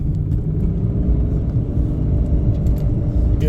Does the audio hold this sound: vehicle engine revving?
yes